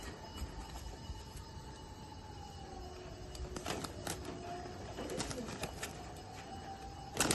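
Racing pigeons in a loft at Chinsurah, Hooghly, coo softly and intermittently, with rustles and faint clatter in the background.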